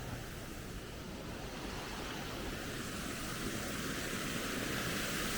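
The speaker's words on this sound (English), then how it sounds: "Thousands of gallons of water going straight into the Irwell." Canal overflow water pours into the River Irwell along the Manchester, Bolton and Bury canal near Elton, a dense, constant roar of falling water that stays loud and unchanging throughout.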